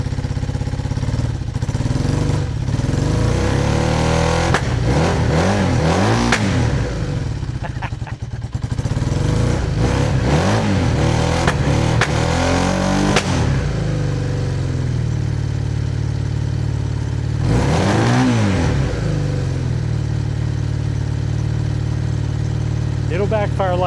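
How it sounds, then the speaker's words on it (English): A Honda CB400 motorcycle runs after sitting unused for a couple of months, its engine idling and revving in bursts with sharp pops of backfire, loud and close, while someone talks over it. "It'll backfire like that a little bit after it's been sitting a while"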